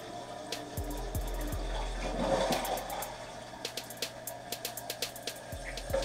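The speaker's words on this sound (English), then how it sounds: "The way you check the proper level is again flushing the toilet." A toilet with a newly replaced float valve flushes and refills. Steady rushing water fills the bowl and tank at close range, with a string of light drips and ticks.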